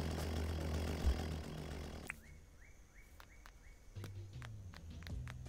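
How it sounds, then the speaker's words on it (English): A tractor driving around in the Dinkum video game gives a loud, steady engine rumble for about two seconds. It then drops away to quieter game ambience with scattered clicks and short tones. "It's the damn tractor. I could hear it a mile away."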